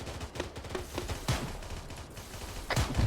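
Plasma weapon fire in a video game, with sharp bursts ringing out amid a steady background of battle noise, including a strong blast near the middle and another close to the end.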